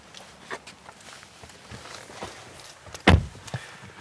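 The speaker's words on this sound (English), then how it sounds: "As the soft closed door clicks into place" A 2019 BMW 7 Series soft-close door pulls itself shut with a single firm click and thud near the end, after faint scattered footsteps and handling sounds outdoors.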